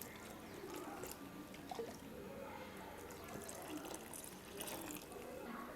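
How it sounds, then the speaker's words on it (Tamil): Water poured into thick mushroom gravy (kalan kuzhambu) while cooking, a steady close splashing, trickling flow running through the whole stretch with no speech. "அதனால் நம்ம இன்னும் கொஞ்சம் தண்ணி சேர்த்துக்கலாம்."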